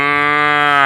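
A human voice imitates a buffalo's moo: one low, steady, drawn-out call lasting about a second, loud and close, with no other sounds.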